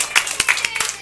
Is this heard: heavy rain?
no